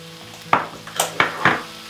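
Ground beef browning in a skillet for a beef and cabbage supper, with four sharp clanks of a utensil against the pan over a faint low sizzle.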